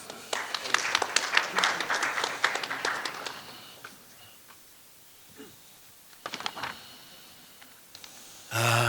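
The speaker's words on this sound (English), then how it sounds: "please give another applause to Mr. Martin Georgiev" Audience applause at a conference on AI in the newsroom: a dense burst of many hands clapping for about three seconds, fading to a quiet room with a few scattered sounds and a brief loud noise at the end.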